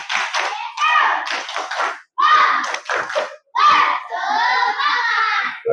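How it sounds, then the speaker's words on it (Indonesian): Primary-school children join in a 'tepuk semangat' group clap to close a classroom session, a few loud rhythmic clap patterns mixed with chanted voices, broken by short pauses. "Kita tutup dengan tepuk semangat dulu sama-sama ya."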